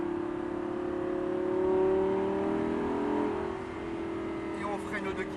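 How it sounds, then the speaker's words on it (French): Lamborghini Superleggera engine rising steadily as the throttle is fed in progressively, a smooth climbing tone heard from inside the car, with faint voices in the cabin. "Et on accélère progressivement."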